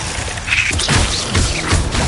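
Glacius ice spell cast during combat in Hogwarts Legacy, a burst of crackling magical impact layered over a busy mix of thuds and game effects, loud and continuous.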